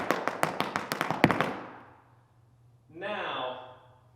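Rapid, crisp Irish dance taps, about eight sharp strikes in quick rhythm, then a pause and a brief spoken word.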